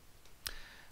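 A single sharp computer mouse click, brief and quiet against faint background hiss.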